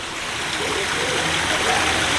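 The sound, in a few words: waterfall at the zoo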